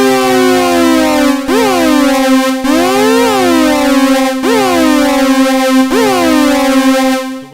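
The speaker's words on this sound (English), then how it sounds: "So what you're hearing there is oscillator 2 is being modulated by ADSR." Korg ARP Odyssey synthesizer holding a bright, buzzy sustained tone while oscillator 2 is swept by an ADSR envelope, producing repeated rising and falling pitch swoops about every one and a half seconds, loud and unaccompanied.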